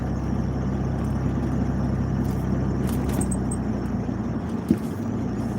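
A car driving gives a steady low engine and road rumble heard from inside the vehicle, with no speech.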